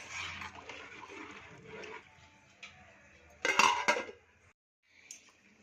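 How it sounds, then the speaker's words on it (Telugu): Rice stirred in a pot with scraping and clinking strokes, then a louder metallic clatter as the lid goes on, followed by near silence and a faint final clink. "ఇట్లా బియ్యం వేసుకున్నాక కలబెట్టి మళ్ళీ మూత పెట్టుకోవాలి ఫ్రెండ్స్."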